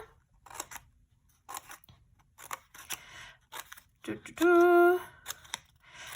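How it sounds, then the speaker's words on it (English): Scissors snip through folded paper in several short, crisp bursts, close and fairly quiet, with a longer, louder cut near the end. "and then I'm going to grab my scissors. I'm going to cut slightly bigger bits"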